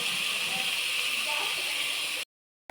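Onion, gram and potatoes frying in oil give a steady, loud broadband sizzle that runs unbroken, then cuts off abruptly into silence near the end.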